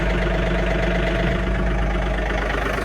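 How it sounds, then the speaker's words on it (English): A tractor engine idles steadily at close range, a continuous low rumble with a mid-range drone and no talk over it. "you got to start up tractor"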